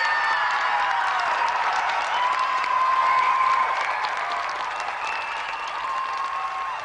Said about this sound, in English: Let's have another round of applause for tonight's semi-finalists, Paul Lakin and Duncan MacDonald.